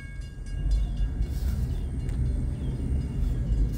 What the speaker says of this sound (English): Got a train today, guys. A Florida Gulf and Atlantic train.